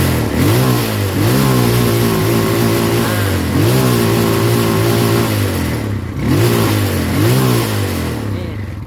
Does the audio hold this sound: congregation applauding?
no